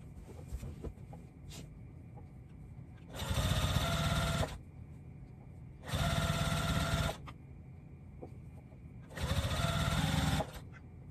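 A sewing machine stitches a minky baby blanket with coordinating thread in three separate bursts, each running for a second or two with quiet pauses between.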